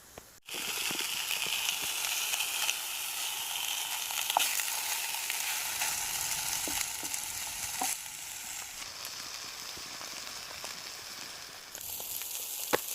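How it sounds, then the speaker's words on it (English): Sausage patties sizzle and fry on a woodstove inside a hot tent, giving a steady close-up hiss and crackle with occasional sharp pops and a scrape or two of stirring. "See if we can cook these sausage patties all the way through."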